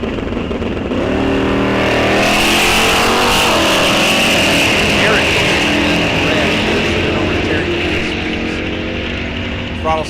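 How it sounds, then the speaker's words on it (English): Drag race cars at Rock Falls Raceway roar off the line in a bracket race, a loud sustained engine howl rising in pitch down the track, with an announcer talking over it. "Throttle stop comes off, down the track he goes"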